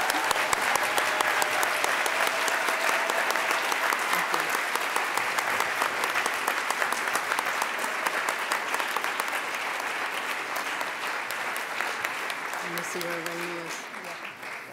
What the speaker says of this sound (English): I would ask for one more round of applause and thank you so much for attending.